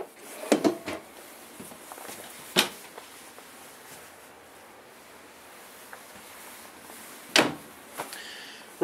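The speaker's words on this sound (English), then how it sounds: "Ball bearing drawer guides." RV drawer in a Forest River Salem Cruise Lite 271RB travel trailer sliding on ball bearing guides, a few sharp clacks and rolling slides, close and fairly quiet, with soft rustling between.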